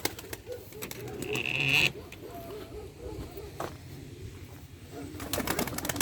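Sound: pigeons at a pigeon market

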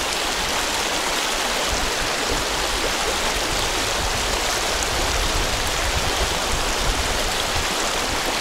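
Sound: shallow mountain river stream flowing

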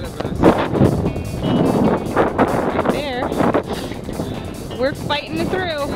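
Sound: wind on open water while paddling toward Key Largo

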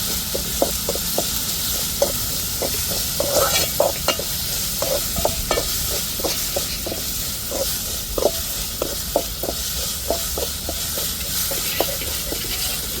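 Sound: ginger garlic paste sautéing with tomato and chili

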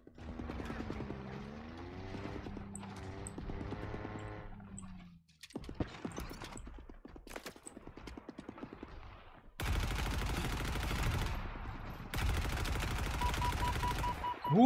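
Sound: gunfire from the video game Halo Infinite

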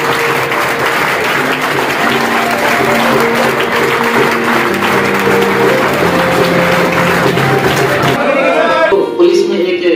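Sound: loud welcoming applause for a selected police recruit

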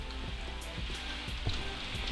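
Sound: rain in a survival video game

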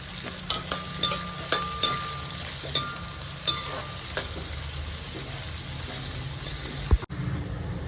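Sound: onion, carrot and green chillies sautéing in a pan

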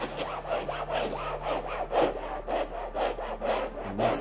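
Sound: scrubbing sofa fabric with cleaner's built-in brush

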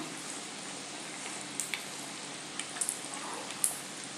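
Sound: frying poha and potato snacks in a pan

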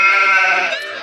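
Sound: sheep bleating

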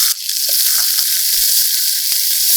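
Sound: chopped onion sizzling in hot oil

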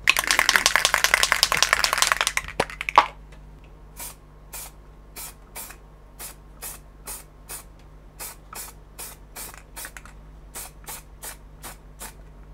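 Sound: spraying Railmatch sleeper grime paint onto model wagon

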